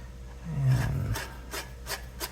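Brief close scraping of a tool deburring a drilled hole in a Lexan rear wing for an XRAY XB2C 2025 RC car, one low rasping pass followed by a few light, short scratches.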